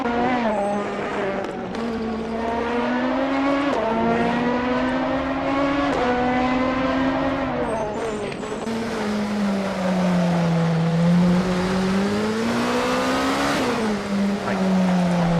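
Race cars lap the Okayama circuit in a racing video game, engines whining and shifting pitch as they accelerate and brake, with several cars close together and tyres briefly squealing, loud and continuous.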